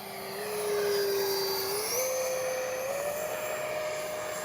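An H-King Flycat V2 RC jet flies past with a loud, continuous whine that climbs in pitch in steps, with no voices.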